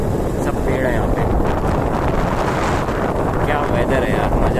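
Cool wind blows through a rural Thai village with large trees and widely spaced houses, buffeting the microphone in a loud, steady, unbroken rush.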